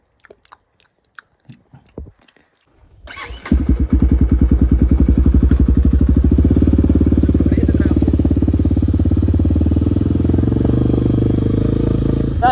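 A Kovi Advance 250 2025 motorcycle engine starts after a few faint clicks and settles into a loud, rapid, throbbing exhaust idle that runs steadily to the end.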